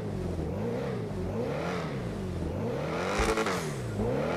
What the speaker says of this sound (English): The XA21 is a very common good sounding car.